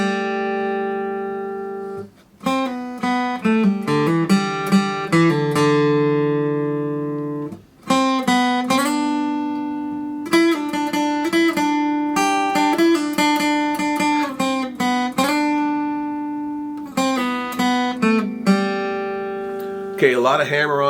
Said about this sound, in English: the acoustic guitar lead in the introduction sounds like